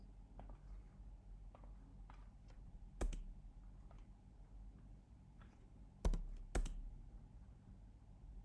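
Keys tapped on a computer keyboard while a terminal install command for Python 3.6 is entered on Ubuntu Linux: soft, sparse clicks with a few sharper, louder key strikes, heard close against a quiet room.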